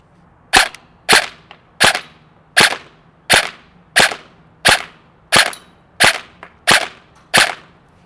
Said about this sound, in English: Let's put about 10 rounds at the target and see how well we do.